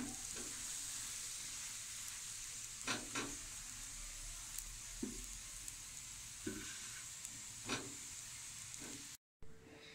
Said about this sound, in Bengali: তেল দিয়ে এটাকে ভালো করে এপিটুপিট করে ভেজে নেব।